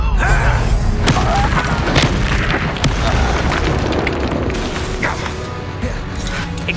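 A Confringo blasting spell explodes during combat in the video game Hogwarts Legacy, a loud booming blast with crashing debris and rumble that stays dense and forceful throughout the battle din.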